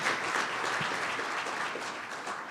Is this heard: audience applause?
yes